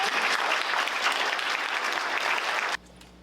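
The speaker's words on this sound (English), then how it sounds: "Please give them a round of applause." An audience at an Edmonds City Council and Port Commission candidate event applauds the candidates with steady, dense clapping that stops abruptly near the end, leaving quiet room tone.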